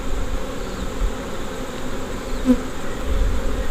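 Honey bees hum in a dense, continuous buzz close by during a February hive inspection, with individual bees droning past over the steady swarm sound.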